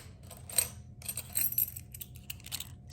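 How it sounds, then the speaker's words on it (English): House keys jangle and clink together up close in several short metallic bursts while being handled beside a key fob and a small Louis Vuitton pouch. "let's see some house keys"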